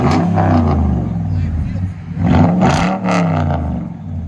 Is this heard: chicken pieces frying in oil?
no